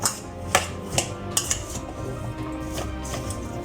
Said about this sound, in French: on va commencer à mélanger, bien sûr, à la cuillère